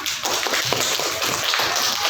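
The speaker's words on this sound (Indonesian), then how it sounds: "tepuk tangan untuk kita semua" A group in a classroom lesson clapping hands together, a loud, continuous patter of many overlapping claps held at steady volume throughout.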